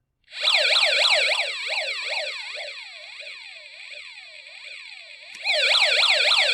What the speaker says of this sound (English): the alarm is sounding based on light